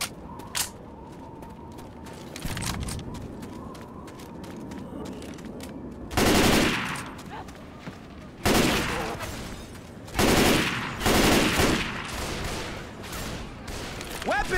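Bursts of gunfire ring out in Left 4 Dead 2 during the Crash Course campaign, loud sustained volleys at intervals, with weapon handling clicks and voices talking between shots.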